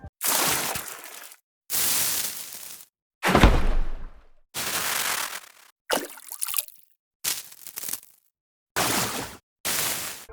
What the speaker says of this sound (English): These water splashes are perfect for this because they have a lot of sparkly high end already